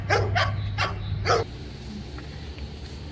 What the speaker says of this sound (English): Greg, look, it's a cattle dog